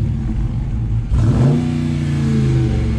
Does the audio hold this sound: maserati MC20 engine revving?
yes